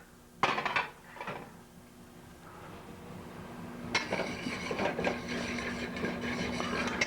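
Ceramic dishes clink and rattle as a large plate is pulled out and set down in a home kitchen while pasta primavera cooks, with sharp knocks early on and then a steady run of clatter near the end.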